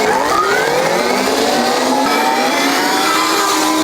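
An 84V electric motocross bike pulling away in second gear of its 4-speed manual gearbox, a loud close whine rising steadily in pitch as it accelerates, with no voices.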